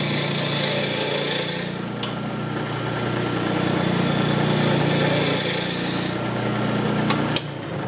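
Sandpaper is held against a green wood lampshade spinning on a lathe, producing a loud, continuous abrasive hiss that swells and eases, with a couple of sharp clicks near the end.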